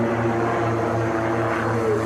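Aircraft of an aerobatic patrol making a pass at an air show, a steady loud propeller-engine drone with a sustained low hum throughout, no talk.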